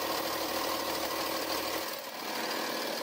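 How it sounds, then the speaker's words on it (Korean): A Volkswagen Phaeton V6 3.0 TDI diesel engine idles with the bonnet open, a steady close rumbling hum with a faint rattly texture and a brief dip near the end. "이 정도의 일반적인 V6 경유 엔진 정도 소음이라고 생각을 하시면 되고요"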